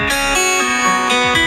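The Facebook Messenger "Acoustic guitar" ringtone plays as a loud, close run of bright plucked guitar notes with a steady rhythm and no talk.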